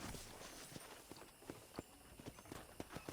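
Horse hooves clip-clop in Red Dead Redemption, a steady walking rhythm of distinct, fairly close hoof strikes on the ground, moderately loud and without talk.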